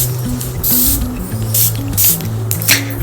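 Perfume spray bottle giving several short hissing bursts in quick succession, close and crisp over a quiet room.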